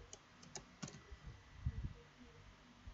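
Computer keyboard keys are pressed in a short, uneven burst of close, quiet clicks and taps while numbers are entered, with no talk.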